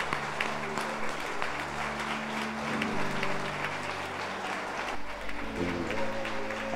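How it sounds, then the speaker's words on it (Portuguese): A church congregation at an anniversary service applauds, sustained clapping at moderate level over a low musical drone with held keyboard tones shifting underneath. "Vamos aplaudir ao Rei Jesus."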